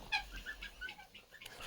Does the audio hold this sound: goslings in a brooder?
yes